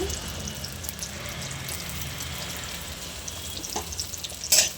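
Onion and green chillies fry in oil in a pan for an Andhra-style chilli chicken gravy. A steady, close sizzle continues throughout, ending with a brief clatter.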